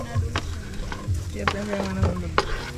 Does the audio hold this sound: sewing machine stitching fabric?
no